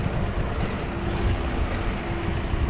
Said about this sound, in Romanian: S-a rămas cu motorul pornit.